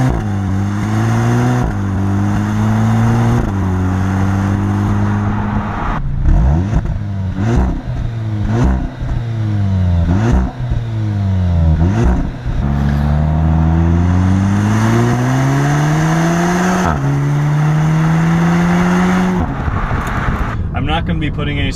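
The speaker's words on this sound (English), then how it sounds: "Yes, I actually like how this car sounds." An Audi S3 four-cylinder engine revs hard and loud through repeated quick upshifts, each climb in pitch cut short by a brief shift break, with the rising, falling pattern repeating steadily over about twenty seconds.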